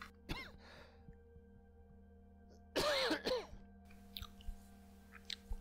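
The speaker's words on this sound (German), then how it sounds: "Entschuldigung fürs Husten" A person coughs and clears their throat close to the microphone, with one short hack, then a louder harsh double cough, amid quiet room hum and faint clicks.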